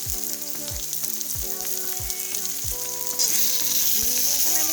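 Tomatoes sizzle with lightly browned onions in a pan, a steady close frying hiss with repeated low knocks and scrapes of stirring, growing slightly louder near the end.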